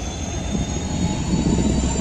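The locomotive engine of the Nauchandi Express train gives off a loud, steady drone with a constant low roar and a thin high whine, with no voices.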